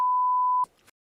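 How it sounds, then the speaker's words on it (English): A single steady censor beep, a pure electronic tone held for about half a second, loud and clean, then a short scrap of muffled sound before silence. "this will get beeped out"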